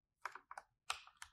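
Quick bursts of computer keyboard typing, a few crisp key taps in two short clusters, close and clear against near silence.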